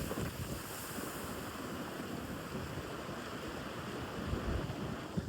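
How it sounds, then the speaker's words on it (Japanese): Ocean waves and strong wind roar steadily at Tebiro Beach on Amami Oshima as Typhoon 18 approaches, with buffeting wind noise on the microphone. "波がめっちゃ揺れとる。"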